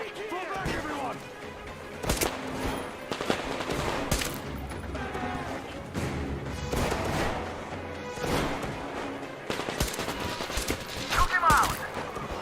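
Gunfire in Metro Exodus mixed with crashes and game sound, a dense chaotic firefight of bursts and impacts with voices shouting over it.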